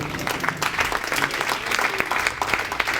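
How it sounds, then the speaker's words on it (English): A crowd applauds a speaker's introduction at a live event: dense, steady clapping from many hands fills the whole stretch at a fairly even level, with no talk over it. "Would you please stand and big round of applause for Tony Guattari."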